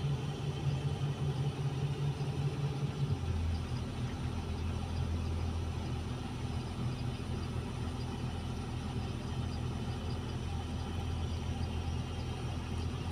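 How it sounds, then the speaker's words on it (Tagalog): A hauling truck arrives to be loaded, its heavy diesel engine rumbling steadily and close by, with the low drone shifting as it rolls in and then holding for the rest of the stretch. "So, may isa pang parating na truck."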